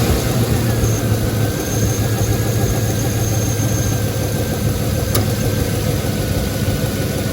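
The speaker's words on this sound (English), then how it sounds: "I'm going to start up the engine real quick just to make sure everything's running" A 5.3L V8 engine in a Chevrolet Trailblazer, fitted with new spark plugs, idles with a steady, throbbing low rumble, loud and close, holding even without revving.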